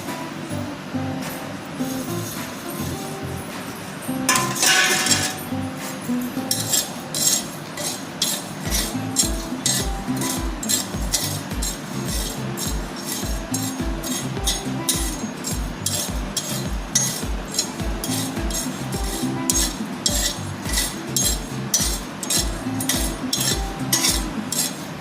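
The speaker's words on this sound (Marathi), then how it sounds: "तर आता ही सुका मसाला आहे सगळा एक जागीच करून मी भाजून घेते" Whole dry spices, cumin, cloves, cinnamon and star anise, being dry roasted together in a pan for a Maharashtrian maswadi rassa, heard as steady rhythmic metallic scraping and clinking of a spoon against the pan, close and continuous.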